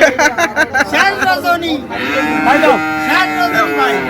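Cattle low repeatedly at a busy rural cattle market in Ambari, with several long, loud moos following a burst of choppy crowd noise.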